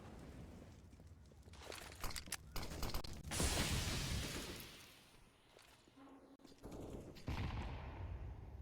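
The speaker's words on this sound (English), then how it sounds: "Actually, a really nice deagle shot." Desert Eagle pistol fire in a Counter-Strike match: sharp, loud shots and bursts of gunfire stand out against game ambience, including one heavy blast near the middle of the clip.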